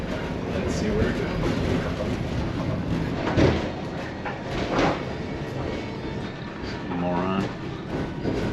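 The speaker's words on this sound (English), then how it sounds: "just randomly got on this tram" Tram ride through a Ukrainian city, with steady rumbling rolling noise from inside the car, occasional clunks and rattles, and a person talking over the continuous background.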